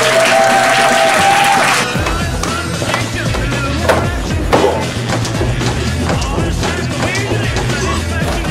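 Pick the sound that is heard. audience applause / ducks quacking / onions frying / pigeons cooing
audience applause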